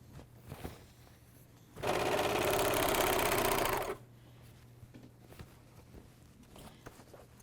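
An AirThread 2000D serger stitches a bathrobe sleeve seam in one loud, steady run of about two seconds, rapid mechanical whirring set against quiet handling and faint taps before and after.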